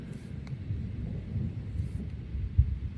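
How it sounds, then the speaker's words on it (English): Distant thunder from an approaching evening thunderstorm rolls as a low, muffled rumble around a backcountry tent campsite, with one sharper thud near the end. "I think I'm in for quite a thunderstorm tonight"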